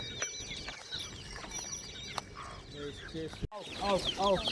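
Chickens on a farm that also keeps goats, sheep and buffalo, letting out short, clipped clucks in a few quick bursts, close by, between and under people talking nearby.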